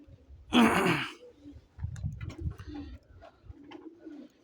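Santinat pigeons, a breeding pair, give soft low coos after a brief flurry that sounds like wing flapping, with a few faint rustles nearby and no talking.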